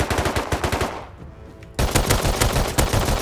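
Rapid automatic gunfire in the video game Rust, loud continuous bursts briefly dropping away before another sustained volley resumes, with the shooting coming from a house.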